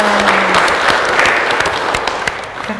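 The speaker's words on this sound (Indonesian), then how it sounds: "Tepuk tangan dong" Studio audience at a cultural talk show applauding loudly and continuously, a thick, even wash of many hands clapping close by with a brief tone and murmur mixed in.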